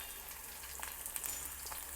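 Lentils crackle and sizzle in a hot oil tempering, a faint, steady frying hiss with small scattered pops.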